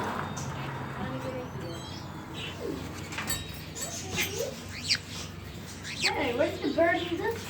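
A caged bird in a pet store coos softly now and then against a steady room hum. Faint wing flutters and rustles can be heard, and people talk nearby.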